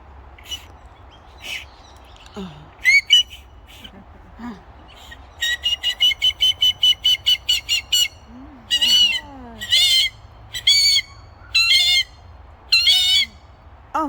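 Cockatoos in the bush of Wadandi Bibbulmun Country, Western Australia, give a series of harsh, rasping squawks in repeated bursts, fairly close, with a person speaking quietly in the background.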